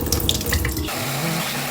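Porridge grains, red beans among them, rinsed in a kitchen sink under a running tap, with splashing and sloshing up close for almost a second before the flow settles into a steady, softer stream of water.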